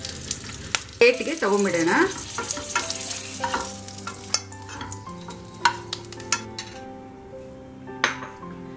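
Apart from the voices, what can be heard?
frying green chillies, cashews and curry leaves in a pan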